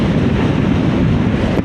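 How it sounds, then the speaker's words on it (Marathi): Strong wind roars steadily against a microphone during a motorcycle ride on a hot road, loud and continuous with no voices. "काय जबरदस्त वारा यार, जबरदस्त वारा"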